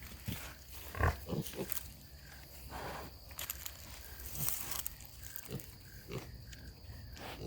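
Young pigs, six and seven weeks old, grunting and snuffling close by, short irregular bursts with rustling and shuffling movement between them.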